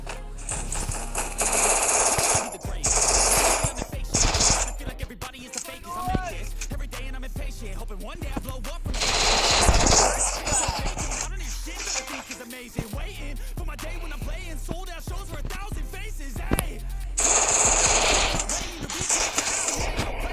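Gunfire in Free Fire, with repeated bursts of rapid automatic shots crackling in dense clusters and short pauses between volleys, loud and close.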